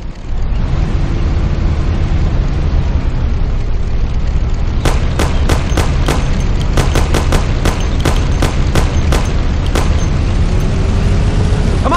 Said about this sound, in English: Thompson, you and Sam shoot them